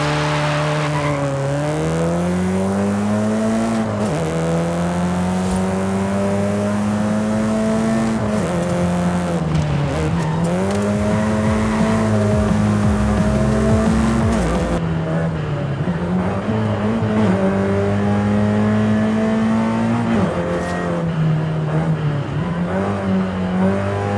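A BMW 2002 Turbo driven in the racing game Forza Horizon 5, its engine droning steadily and loudly with rising and falling revs through gear changes, occasional tire squeal and skidding, and no talk.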